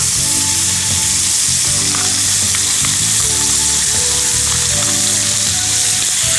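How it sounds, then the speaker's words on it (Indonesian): Ground spice paste sizzles loudly in hot cooking oil in a pan, a dense, continuous frying crackle with occasional stirring scrapes and clinks, close and unbroken throughout. "Kita panaskan, kemudian tumis bumbu yang dihaluskan ini."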